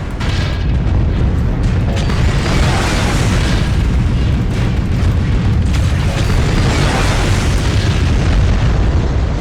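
Explosions pound a mech in the MechWarrior Online game as a Catapult C2 rotary build takes fire, a dense, loud, continuous roar of booms and blasts with no gaps.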